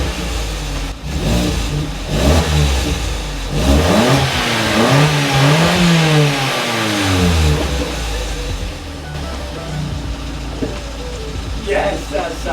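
A Vauxhall Corsa hot hatch track car fitted with a new exhaust manifold revs loudly and close by, its engine note climbing and falling in repeated bursts before settling toward idle.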